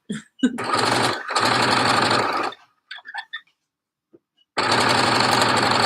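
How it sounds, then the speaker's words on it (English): A domestic sewing machine stitching jersey fabric runs in loud, fast mechanical bursts, pausing between runs, with small high squeaks from the bobbin in a quieter gap between the stitching. "the bobbin squeak, which is a little bit disconcerting if you're not expecting it"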